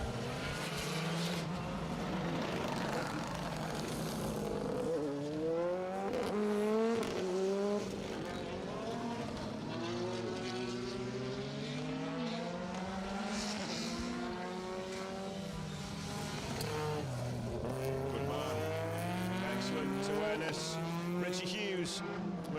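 A Peugeot 306 Maxi rally car storms past on a Protyre Circuit Rally Championship stage, its engine revving hard through rising and falling gear changes, loud and close, with a commentator talking over it.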